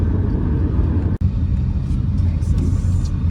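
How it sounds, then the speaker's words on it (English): A big truck passes on a coastal road to Grand Isle, a loud close rumbling roar that stays heavy for the whole moment with a brief dip partway, no talking over it. "Appreciate that big truck."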